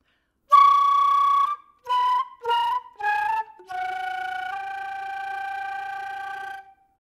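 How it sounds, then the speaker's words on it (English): A flute plays a few separate notes and then a long held one, each with a rough, fluttering buzz, close and clear, with no voices. "It's called a flutter tongue because we roll our tongue like that."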